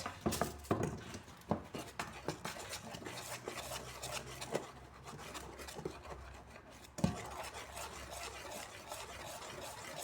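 Flour being stirred into honey cake dough in a bowl, giving a steady scraping and tapping of utensil against dish, close and fairly quiet, with no talking.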